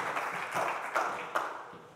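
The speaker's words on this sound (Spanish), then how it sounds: "Un fuerte aplauso" A conference audience applauds a speaker at a developer event with a dense, moderately loud wash of clapping, a few sharper claps standing out as it gradually thins.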